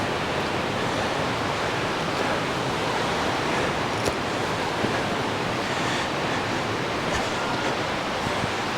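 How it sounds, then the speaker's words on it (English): Mae Ya waterfall in Thailand, a steady broadband roar of falling water, dense and unbroken, heard from some distance with no voices. "Looks like the waterfalls are up there."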